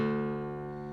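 A single low string on an acoustic guitar, tuned to D, is plucked and rings out, a sustained tone that slowly fades.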